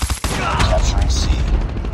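Dense bursts of rapid automatic gunfire in COD Mobile multiplayer, loud and continuous with overlapping shots across the whole stretch.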